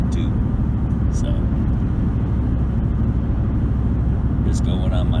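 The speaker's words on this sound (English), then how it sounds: "Now it sounds like a V8 going down the street, and it feels like it too." Steady, loud engine and road rumble from a 2008 Ford Expedition with a V8 driving down a street, heard from inside the vehicle, with a few faint clicks and squeaks over the constant drone.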